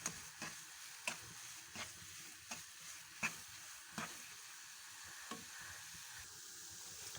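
Besan barfi mixture with milk cooks in a pan as it is stirred, giving a faint continuous sizzle with soft, evenly spaced stirring taps and scrapes.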